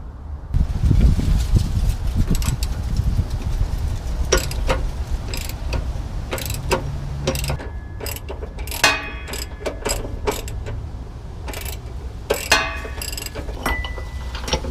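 A ratchet works out a 13mm bolt from a Ford Transit bump stop, giving close, repeated clicking runs and metallic ticks with a low rumble under them.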